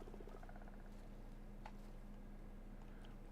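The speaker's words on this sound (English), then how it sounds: "I do like the stupid little croaking noises" Frogs in the block-building game Minecraft give soft, quick repeated croaks early on, with a lone higher croak in the middle, all faint against a steady low background hum.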